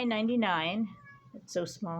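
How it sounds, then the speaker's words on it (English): A pet cat meows a couple of times up close, drawn-out rising and falling calls, with someone talking over and between them. "That's my cat."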